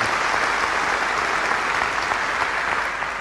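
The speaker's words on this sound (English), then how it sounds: "quick applause" Audience applause at a DrupalCon London conference keynote, a dense, even wash of clapping from a large crowd that holds steady throughout.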